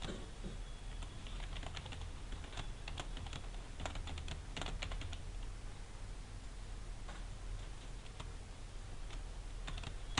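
Code is typed on a computer keyboard, with quiet, rapid, irregular key clicks running continuously at close range and no voices.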